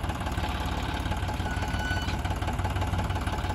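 A John Deere 5405 4WD tractor engine drones steadily under load while pulling a tiller, a close, continuous low rumble with a constant throbbing knock and no pauses.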